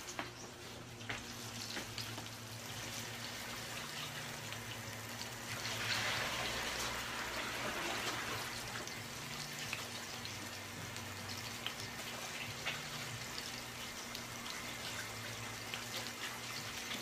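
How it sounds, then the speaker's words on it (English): A tap runs steadily into a sink during handwashing in a home kitchen, a moderate, even watery hiss with a brief swell midway. "I'm going to wash my hands"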